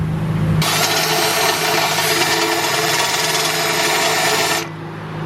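A unibit step drill bit bores into metal during a cast top-mount turbo build for a D16Y8 single-cam engine, a loud, harsh whine that starts abruptly, runs steadily for about four seconds, then cuts off.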